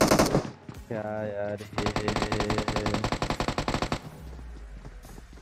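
Rapid automatic gunfire from the PUBG battle royale on the Erangal map rattles out in a steady close burst, with a player's voice speaking over the start.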